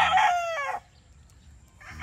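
An Allen Roundhead gamefowl rooster crows once, loud and close, followed by a quiet pause before another bird call begins.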